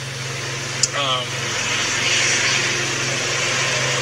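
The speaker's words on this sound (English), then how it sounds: "Hope that truck wasn't too loud." Truck passing by outside a quiet room: a broad, rising and falling rumble swells over a few seconds, distant but clearly audible beneath a brief spoken sound and a low steady hum.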